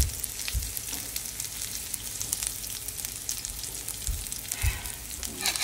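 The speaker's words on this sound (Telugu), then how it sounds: "ఒడిని వేగిపోయినాక మనం కొంచెం ఫస్ట్ గార్లిక్ వేసుకున్నాం." Chopped garlic sizzles steadily in hot oil in a pan while cooking an onion tomato chutney, a close, continuous crackle with a few soft stirring knocks.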